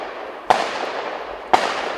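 Two sharp, booming bangs about a second apart, each with a short decaying tail, like distant gunshots against a steady background hum.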